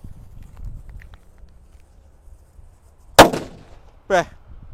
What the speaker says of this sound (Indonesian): ini ada mercon Happy Flower yang warna ungu guys. Ini langsung door, ini lebih banter ya.